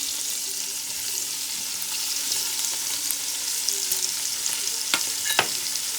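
Onion frying in a pan, a steady close crackling sizzle with a few sharp scrapes or clinks near the end, no one talking.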